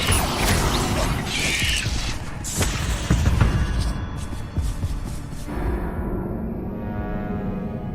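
The Incendio fire spell is cast in the video game Hogwarts Legacy, a steady roar of magical flames with booming, crashing impacts and mechanical clatter, loud and continuous for several seconds.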